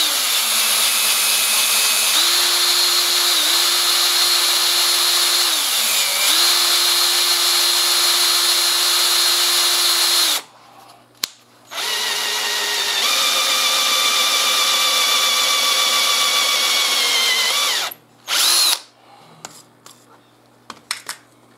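A drill bores holes through a steel knife blade, its loud steady whine running in long sustained stretches with brief pauses and restarts between holes.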